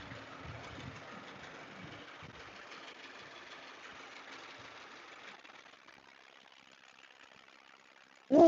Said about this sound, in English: the engine's starting to get warmed up